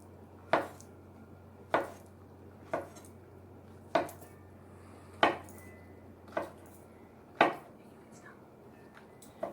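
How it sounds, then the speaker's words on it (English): A knife slices through a large mushroom cap on a cutting board, giving eight sharp, evenly spaced chops about a second apart, close and fairly quiet over a faint low hum. "And now I have one large mushroom cap, and what I'm going to do is just cut it in half, and we're just going to slice it."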